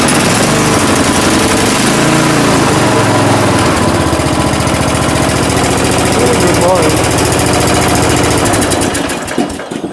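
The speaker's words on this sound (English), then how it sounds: "Good running mower." A ride-on lawn mower tractor with hydrostatic drive runs its engine close by, a loud, steady, throbbing drone that holds throughout and rises briefly near the end.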